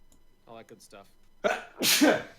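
A person briefly speaks, then a loud, close sneeze bursts out in two sharp stages.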